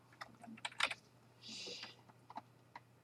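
Quick bursts of keystrokes on a computer keyboard while text is entered into a spreadsheet chart field, a few separate clicks followed by a short steady run of typing, close and fairly quiet.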